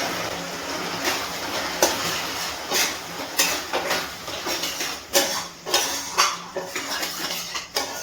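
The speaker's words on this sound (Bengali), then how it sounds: "খুব ভালো করে মিশিয়ে নিচ্ছি বাটার।" A spoon scrapes and clinks against a pan while butter is stirred into chicken keema masala, with repeated irregular metallic knocks and scraping over a steady sizzle, close to the listener.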